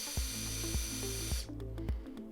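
An osteodrive MCU-470 surgical drill running at full drill speed gives a steady high whine that cuts off partway through, over repeated low thumping pulses.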